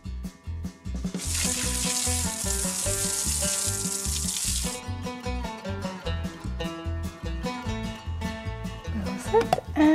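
Water pours steadily into a toy kettle for a few seconds during a baby-doll play session with bath toys. The splashing rush sits over continuous background music, then stops while the music carries on.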